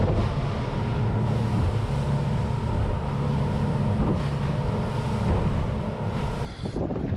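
Strong wind buffets the microphone aboard a fishing boat on rough sea, a loud continuous low roar with engine and hull rumble beneath it and no voices.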